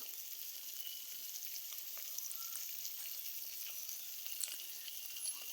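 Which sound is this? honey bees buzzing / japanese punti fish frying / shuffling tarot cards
japanese punti fish frying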